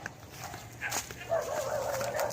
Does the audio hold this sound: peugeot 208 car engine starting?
no